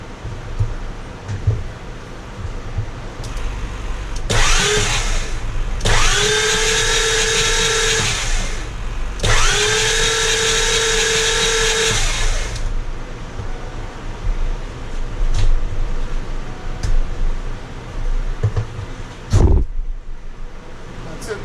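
A Ford 7.3 Super Duty diesel engine with new injectors is cranked in two roughly three-second bursts of loud mechanical whirring, separated by a pause, amid background shop noise and bumps.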